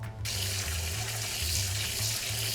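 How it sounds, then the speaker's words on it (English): Black beans rinsed under a running kitchen tap, a steady loud stream of water hissing into a sink without pause, with a low hum beneath it and no voices. "An important step is that we rinse the black beans completely."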